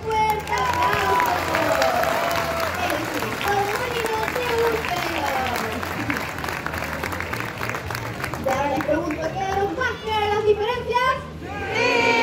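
An audience at a marine park sea lion show gives steady, lively applause, with children's voices and crowd chatter mixed in and people talking near the end.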